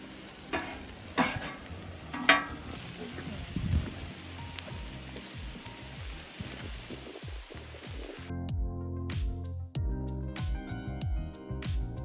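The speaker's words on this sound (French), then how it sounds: "je fais cuire mes sardines" Sardines frying in a pan on the stove, a steady close sizzle with stirring and scraping throughout, a broadband crackle that turns sharper and more clattery in the final few seconds.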